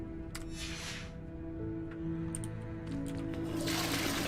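Running water in a Hogwarts Legacy bathroom, a rushing flush that swells, fades, and surges again at the end, set against a sustained musical hum.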